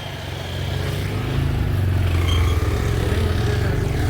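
A road vehicle's engine hums steadily while riding, growing louder as it gets going and then holding a constant drone.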